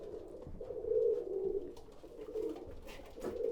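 Roller pigeons coo together in an aviary, a steady low warbling chorus of overlapping calls that swells and fades without pause, fairly close and unaccompanied by talk.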